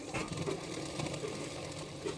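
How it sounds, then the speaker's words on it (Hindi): A sewing machine runs steadily and faintly, stitching the side seams of a double katori boat-neck blouse, a continuous low whirr without pauses. "दोनों साइड में मैंने इसी तरह से फिटिंग के लिए सिलाई कर रही हूँ"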